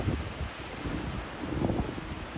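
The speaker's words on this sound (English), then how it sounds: "ooh, yeah, that's a wind" Wind blowing outdoors in the cold, a soft, steady rush with faint rustling gusts, low in level and continuous throughout.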